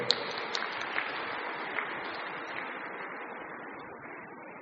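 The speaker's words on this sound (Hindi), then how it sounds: "आप सभी ताली बजाकर आपका स्वागत करें" A conference audience at a plenary session applauds to welcome a minister, producing a faint, even patter of clapping that holds steady and slowly fades.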